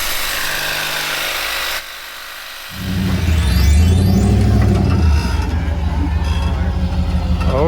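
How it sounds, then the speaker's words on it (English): Power grinder working on the worn rear axle suspension of a wrecker truck, a steady whirring hum that drops out briefly, then returns louder and harsher with a rough, grinding texture. "So while I'm grinding"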